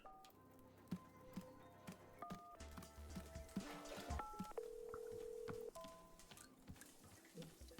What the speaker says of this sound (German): Telefongeräusche.